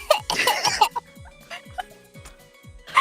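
A person's voice imitates a baby's cough, giving a short, close burst of high, breathy coughs near the start, then quieter scattered sounds.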